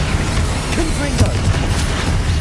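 The Confringo fire spell in Hogwarts Legacy lands as dull, booming blasts mixed into ongoing game sound, with a voice heard over it.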